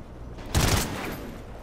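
A brief burst of gunfire from Call of Duty: Ghosts, a short, loud volley in the middle of an otherwise quiet moment.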